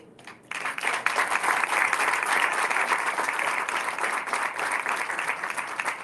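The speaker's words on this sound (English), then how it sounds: "so we can give a round of applause" An audience at a Gold Jacket event hosted by Louisiana's governor breaks into sustained, dense applause for an NOPD police officer. The clapping starts abruptly after a brief quiet moment and stays full and even throughout.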